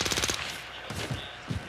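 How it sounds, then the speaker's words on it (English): Rapid automatic gunfire from enemies in a video game, a quick burst of close, sharp shots followed by two more single reports. "Monsters are shooting at me."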